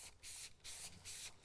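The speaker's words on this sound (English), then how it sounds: "I'm gonna spray a decent amount of product in the brush" Lather interior cleaner is sprayed into a detailing brush in three quick hissing bursts, close and quiet, with short pauses between them.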